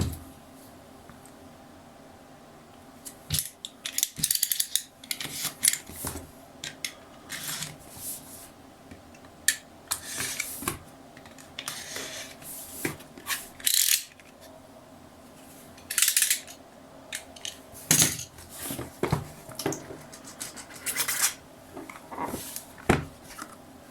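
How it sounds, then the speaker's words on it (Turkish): A sturdy cardboard box for a Cronus ZEN gaming adapter being opened by hand, with irregular close scrapes, taps and flap rustles in short bursts between quiet pauses. "Öncelikle bir kutumuzun açılışını yapalım."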